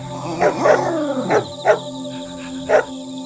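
Dogs in a cartoon story bark and yip in short bursts, with several loud, close barks spread across a few seconds over a faint steady background tone.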